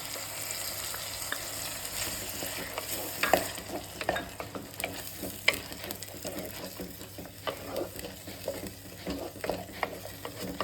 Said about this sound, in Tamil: நான் வெங்காயம் தக்காளி அரைச்சி வச்ச பேஸ்ட்டை இதில் ஊற்றிக்கிறேன்.